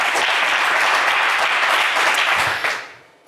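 An audience on a French television game show applauds loudly in a dense burst of clapping that holds for under three seconds, then quickly fades away.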